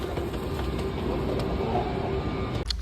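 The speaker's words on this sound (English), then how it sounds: "Okay, here's our ghetto train." An older, slower South Korean train bound for Busan rumbles steadily with a continuous low roar and faint squeals, heard close and moderately loud before cutting off sharply at the end.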